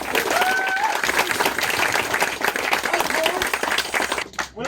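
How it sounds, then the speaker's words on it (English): Crowd applause for performers at a bards' singing contest at a fantasy roleplay festival, steady clapping with scattered voices and whistles, fading near the end. "Applause for all of our performers"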